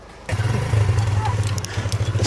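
A vehicle engine starts up and runs with a low, throbbing putter while the vehicle is driven, close and steady.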